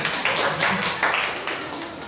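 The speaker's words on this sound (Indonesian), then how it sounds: "Tepuk tangan buat Gimel." A class gives a short round of applause for a student named Gimel, a brief burst of several people clapping close by that tapers off within about two seconds.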